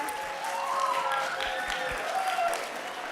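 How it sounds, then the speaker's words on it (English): Moderate applause from an audience for actors on stage at a synagogue, continuous clapping at steady volume throughout, with a few sharper claps standing out. "I'd first like to give a round of applause to all of my actors up here."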